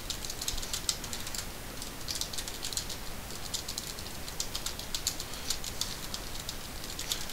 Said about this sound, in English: I'm just going to sit here and mash on the keyboard